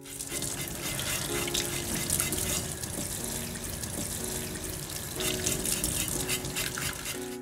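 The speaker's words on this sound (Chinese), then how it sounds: "接下来用这个热水给它清一清，" Hot water running over pork in a kitchen sink as the meat is rinsed, a steady splashing flow without talk.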